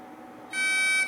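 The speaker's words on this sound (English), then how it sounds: "The entry tone and timer will then start" A Texecom Premier alarm keypad starts its entry tone, a sudden high-pitched electronic beep that holds steadily for about half a second over quiet room noise.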